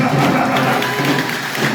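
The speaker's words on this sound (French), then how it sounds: "applaudis mon Dieu, applaudis mon Dieu, applaudis mon Dieu" A church congregation applauds during a consecration service, a broad steady wash of clapping heard close and loud alongside voices.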